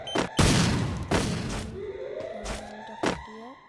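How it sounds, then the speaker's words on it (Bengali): Grenade blasts in a mobile battle-royale shooter, several sharp booming thuds in quick succession, with game effects and rising tonal sweeps between them. "চারিপাশে ল্যান্ডমাইন মেরে আমি ঠিক গ্রেনেড মারছি"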